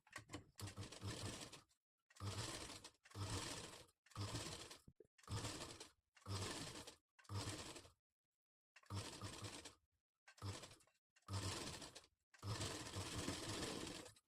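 Sewing machine stitching the neck part of a katori blouse at a half-inch margin, running in about nine short bursts separated by brief pauses, each burst a rapid, close, steady mechanical chatter with no talk.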